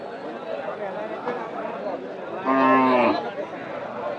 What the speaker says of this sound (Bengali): সুন্দরটি শাহিওয়াল বাচ্চা,